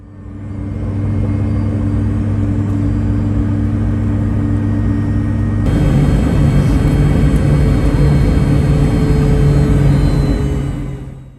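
Steady, loud engine rumble and whine inside a Virgin Australia airliner pushing back from the gate at Brisbane International Airport, a constant drone that shifts in tone partway through, with no voices.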